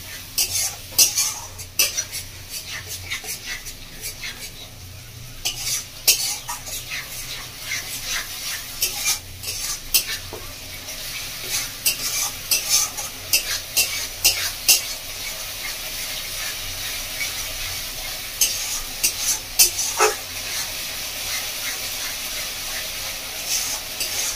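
A spatula stirs and scrapes a ground paste of ginger, garlic, green chili and black pepper as it fries in a pan, with steady close metallic scraping over a soft continuous sizzle and occasional sharper clinks.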